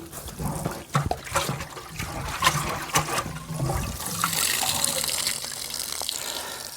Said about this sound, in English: So we just want to give this radiator a bit of a flush.